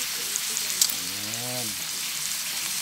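Fish fry in oil on a grill made from an old pot lid, a steady close hiss and sizzle running throughout, with a short spoken word over it partway through.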